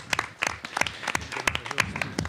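A small audience at a school youth roundtable on teaching claps for a teacher, giving sparse, uneven, fairly close applause from a modest group.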